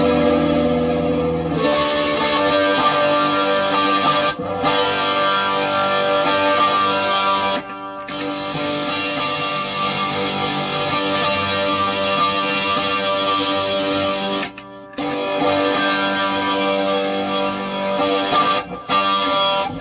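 Electric guitar driven through an original Sovtek Big Muff fuzz pedal, playing thick, saturated sustained chords loud and continuous with a few brief cutoffs between phrases, no talking.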